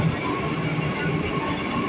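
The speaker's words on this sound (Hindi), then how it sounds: "ये है दिल्ली की मेट्रो" A crowded Delhi Metro carriage in motion, a steady, loud rolling rumble with a high wheel squeal running throughout, no clear speech over the rail noise.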